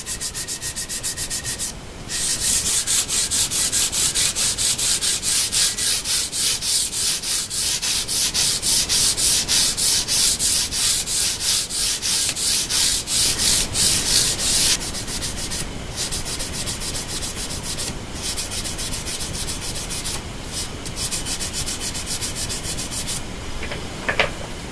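Guitar frets being polished with soft abrasive pads up to 12,000 grit, giving a steady close rub-and-scrub with a brief pause near the start and a slightly quieter stretch after the midpoint, with no talking.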